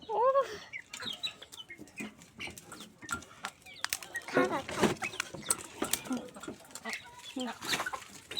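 Domestic village hens cluck and squawk near a backyard coop, with irregular bursts of flapping and scuffling, while people talk nearby.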